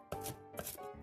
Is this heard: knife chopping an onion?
yes